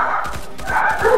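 Dogs barking in a Counter-Strike: Global Offensive match, several quick, close barks and yips in a rapid cluster that is mixed with game noise.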